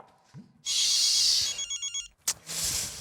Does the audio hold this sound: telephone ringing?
yes